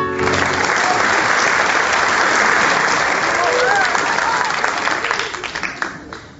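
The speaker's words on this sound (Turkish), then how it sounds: "Arkadaşım seni alkışlıyorlar." Sustained audience applause fills a comedy stage performance, dense and loud throughout before tapering slightly at the end, with a few voices mixed in.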